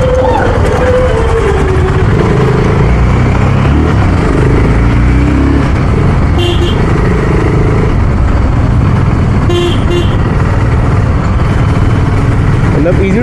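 A BSA Gold Star 650 motorcycle ridden on the road, its engine a loud, continuous low rumble with wind rush, under a rider talking throughout.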